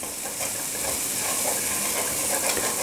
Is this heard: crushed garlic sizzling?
yes